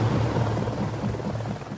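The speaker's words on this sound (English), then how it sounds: "As the sound of rotor blades fills the air" Helicopter rotor blades produce a low, steady throbbing drone with a rhythmic chop, fairly loud and continuous, with no talking.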